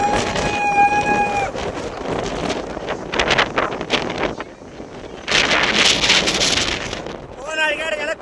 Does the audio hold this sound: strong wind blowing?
yes